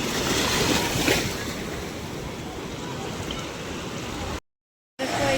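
Sea waves wash onto a beach in Andhra Pradesh, a steady broadband roar of surf mixed with wind buffeting the microphone, continuous and fairly loud, with a brief silent gap near the end.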